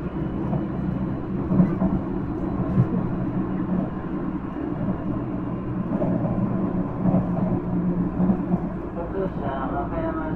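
Nankai 1000 series airport express train running on the Nankai Main and Airport lines from Namba toward Kansai Airport, heard from inside as a dense, steady low rumble and rolling roar that holds evenly throughout.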